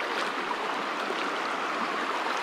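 Creek water rushing and splashing around someone wading across, a continuous bright burble up close with no talk.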